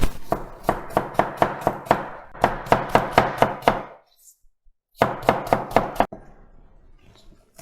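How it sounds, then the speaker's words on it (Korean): A knife chops radish into 2 cm pieces on a board, with a run of about a dozen sharp, evenly spaced chops, a short pause, and then another quick burst of five or six cuts. The sound is close and clear. "무도 2cm로 잘라주세요."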